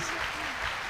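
A church congregation claps during a sermon, a steady wash of many hands with voices and crowd murmur mixed underneath, fairly close and continuous.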